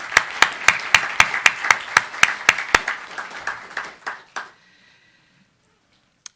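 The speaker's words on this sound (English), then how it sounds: "Can I have a round of applause?" A burst of audience applause at a lecture, with sharp, evenly spaced claps standing out, thinning out and fading to silence after a few seconds.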